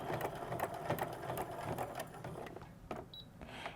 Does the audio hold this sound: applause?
no